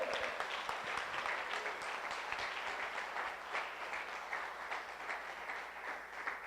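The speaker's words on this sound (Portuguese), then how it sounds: "Aplauda o Senhor." Congregation clapping during a Portuguese-language church service, a steady dense patter of applause lasting throughout, moderately distant with a faint low hum beneath.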